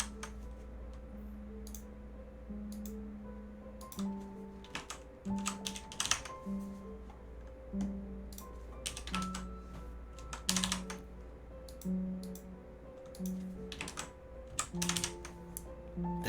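Code is typed on a computer keyboard in quick irregular bursts of soft key clicks, fairly quiet, over a faint steady tonal background.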